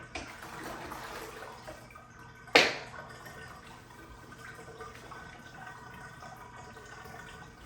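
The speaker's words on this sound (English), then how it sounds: "So I'm going to drain out this soapy water." Soapy water draining out of a basin after cleaning a natural rubber yoga mat, a steady trickling gurgle broken by one sharp clunk early on, faint and close, with no talk.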